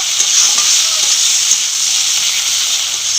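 Chopped tomato and cumin paste sauté in a hot pan, a loud, dense and continuous sizzle heard up close with faint scraping stirs under it and no voices.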